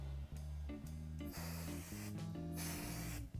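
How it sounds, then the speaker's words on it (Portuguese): Spray glue hisses onto fabric while a fabric bag is being sewn, a steady close spray running the whole time with short breaks, over a low hum. "usar essa cola aqui spray"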